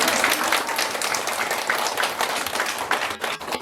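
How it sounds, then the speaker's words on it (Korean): Elderly audience at a senior citizens' hall in Gajae Village, Sejong, applauds in a dense, steady wash of clapping lasting several seconds, close and fairly loud, thinning slightly near the end. "저한테 박수 한번 쳐주세요."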